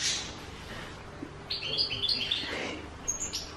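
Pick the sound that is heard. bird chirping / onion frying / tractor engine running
bird chirping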